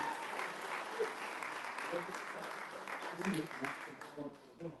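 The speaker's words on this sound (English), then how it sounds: "Give him a big round of applause." A crowd applauding steadily at a Workers Party of Britain broadcast, a dense wash of clapping that fades a little toward the end, with some voices mixed in.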